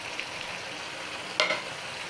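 Paneer pieces seasoned with salt and turmeric fry in a hot pan, giving a steady, soft close-up sizzle throughout, broken near the middle by a brief scrape or clink of stirring. No one speaks.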